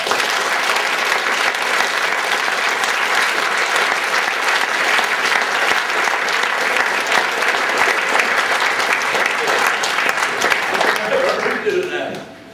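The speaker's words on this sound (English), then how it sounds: "give him a round of applause" Sustained crowd applause from a live audience at a show in Milton Keynes, UK, loud and steady for about eleven seconds before tapering off at the end, with faint voices mixed in beneath.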